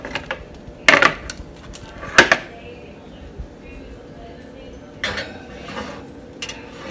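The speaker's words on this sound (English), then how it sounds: "Alright, so I'm gonna put these in the oven" Metal baking pans clatter and clank sharply against an oven rack in a home kitchen, a few separate knocks spaced seconds apart, with a person talking quietly in between.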